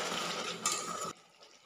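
Mango chutney with jaggery being stirred in a pan, a dense scraping and bubbling texture that continues steadily and then drops off sharply toward the end, leaving near silence.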